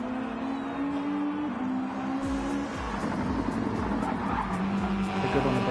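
Race car tires squealing as the understeering car loses front grip on track, an engine droning underneath and a brief radio voice before the rising, sustained screech.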